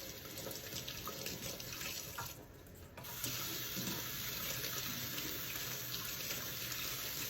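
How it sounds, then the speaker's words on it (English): Tap water runs into a kitchen sink while coriander is rinsed, a steady close hiss and splash that briefly drops and thins before returning full, with no talk. "Give it a nice wash."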